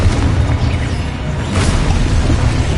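A Confringo blasting spell going off in Hogwarts Legacy, a loud, dense, rumbling explosion with a heavy low boom and a brief whooshing burst partway through, sustained for nearly three seconds with no talking.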